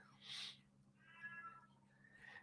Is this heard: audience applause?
no